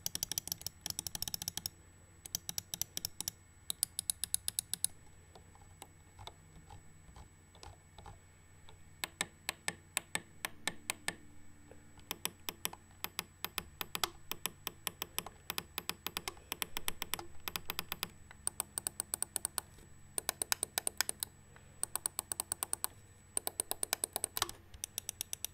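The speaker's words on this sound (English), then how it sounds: "Here's a quick sound test of all the buttons." Button clicks from a Perixx MX-2000II mouse, a long run of crisp, close clicks in irregular bursts with short silent gaps between them.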